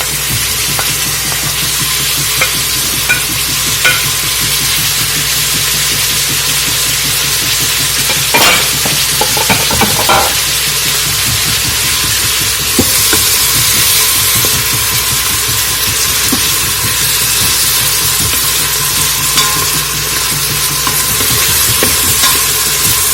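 Quinoa and black beans with thyme sauté loudly in a pan, a dense, continuous sizzle with steady scraping as they are stirred throughout, heard close up.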